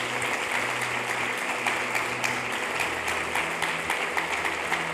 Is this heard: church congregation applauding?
yes